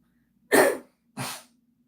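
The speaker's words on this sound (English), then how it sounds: "I need to clear my throat" A woman clears her throat twice in quick succession, two short rough bursts close to the mic with a faint steady hum beneath and no talking.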